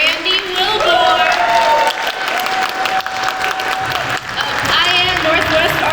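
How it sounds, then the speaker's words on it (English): An audience at an awards show bursts into loud applause and cheering for an award winner, a dense, continuous roar of clapping with voices and whoops mixed in throughout. "can I get a big round of applause for Randy Wilbur"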